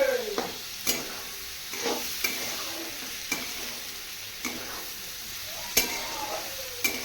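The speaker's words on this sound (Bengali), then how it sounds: "দেখো পেঁয়াজটাকে দিয়ে ভালো করে নেড়ে নেবে তোমরা দেখো আবার ডিমগুলোকে দিয়ে দিলাম আমি" Onions and eggs fry in a pan for an evening pasta dish, a soft, steady sizzle punctuated by regular sharp clicks of a utensil stirring against the pan.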